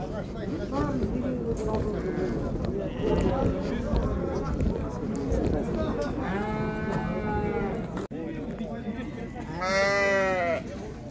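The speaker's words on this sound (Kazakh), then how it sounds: "Қаңтар ақпан айларында туылған қозылар екен" Lambs born in January and February bleat at a Shymkent livestock market, with a few clear wavering calls rising near the end over a constant background of talk and mixed animal noise.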